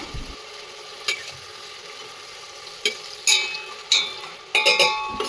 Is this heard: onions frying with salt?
yes